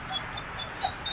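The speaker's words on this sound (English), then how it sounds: "please excuse my dog, she is just working on my nerves" A dog whimpers in short, faint, high-pitched whines in the background of an indoor workshop space.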